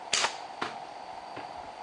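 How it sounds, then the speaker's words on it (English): A hunting rifle shot rings out, a single sharp crack near the start followed by a fainter echoing report and a distant third thud as it fades into quiet outdoor air. "One shot, two kills."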